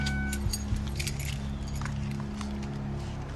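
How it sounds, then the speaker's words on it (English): Car keys jangle and clink as they are handed over at a roadside traffic stop on a wet road, bright metallic rattles up close over a low idling hum. "Turn off the car and pass me the keys"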